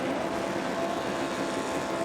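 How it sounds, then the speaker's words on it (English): Race car engines at Belle Isle hold a steady, distant drone of revs building before the start of a Pirelli World Challenge race, a continuous broadband roar with no clear individual passes. "Revs are coming up."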